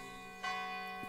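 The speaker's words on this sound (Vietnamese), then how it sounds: "bên ngoài không khí lạnh đã làm vang vọng những tiếng chuông ở các ngọn tháp chuông nhà thờ" Church bells ring from bell towers in cold outdoor air: one bright, resonant strike rings out and lingers over a soft steady hum, with a fainter low stroke following shortly after.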